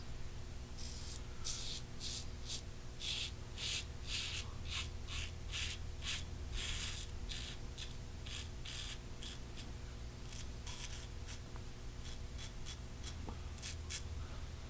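An Alpha Outlaw safety razor scrapes across the grain in a string of short, close, raspy strokes at a quick, uneven rhythm, quiet and without talk.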